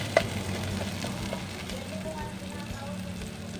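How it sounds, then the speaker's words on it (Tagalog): Tomato sautéing in a pan for tilapia soup with string beans, a steady close sizzle with faint stirring and an occasional soft tap. "Tutuloy ko lang ang pag-isa hanggang sa malambot na ang ating mga"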